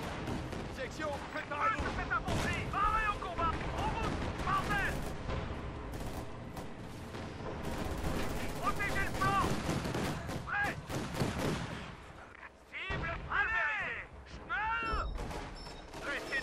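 Gunfire and artillery in the World War II strategy game Company of Heroes 2, with repeated bursts of shots and booming impacts over a rumbling battlefield, under frequent excited talk from players.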